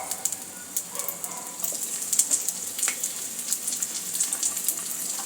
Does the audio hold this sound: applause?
no